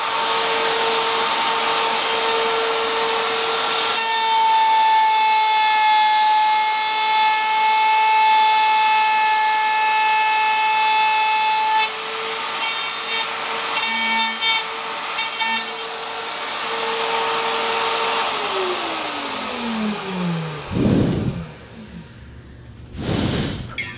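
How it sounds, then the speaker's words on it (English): A drill press with a Forstner bit cutting into wood gives a loud sustained motor whine with a steady tonal hum, then the pitch drops away as the machine spins down, with a few knocks near the end. "Drill press Forstner bit."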